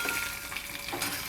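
Mustard seeds crackle and sizzle in hot oil for a tempering poured over coconut chutney, a steady broadband hiss with small pops, close and continuous with no talking.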